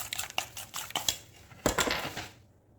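A spoon clinks and scrapes against a bowl in quick, irregular taps while breaking up cream cheese (kishta) for a Ramadan sweet, close and fairly quiet, with no talking.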